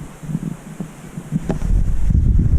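Strong wind gusting against a hitchhiker on a roadside near two famous pillars in Turkey, a low roaring buffet that grows steadily louder and more constant toward the end, with no talk.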